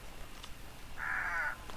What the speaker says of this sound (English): See the crows here? They'll give you away if you walk too close to them.